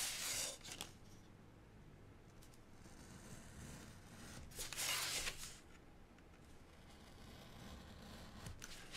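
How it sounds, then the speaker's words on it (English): Scissors snip through paper up to a score mark while making a DIY designer bag, with a couple of short, crisp cutting bursts over quiet, close handling noise. "So I'll go up to the score mark and I'll cut down and I'll remove like this."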